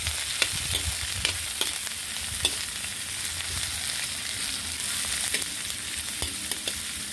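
Chili and onion frying in a pan after garlic has gone golden, for snails in coconut milk, stirred with a spatula; a steady close sizzle broken by regular scraping strokes.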